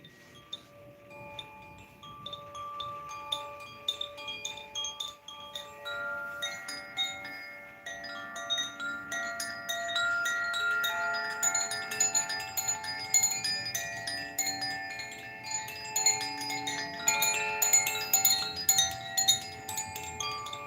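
Sound healing bowls ringing with sustained shimmering tones, gentle strikes layering into a fuller, slowly building wash of overlapping bell-like hum.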